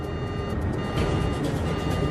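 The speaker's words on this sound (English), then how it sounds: "Suddenly, its onboard traffic collision avoidance system, TCAS, sounds an alert." An aircraft's onboard traffic collision avoidance alert sounds in a cockpit as a repeating electronic beeping tone over a low, steady engine rumble, close and fairly loud.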